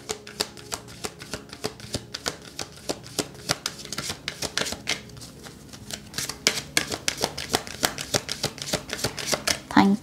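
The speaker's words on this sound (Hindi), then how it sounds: "तो शफल करते हैं कार्ड्स को" A deck of tarot cards is shuffled up close, giving a fast run of crisp riffling flicks and taps that grows a little busier toward the end, with a voice speaking faintly at moments.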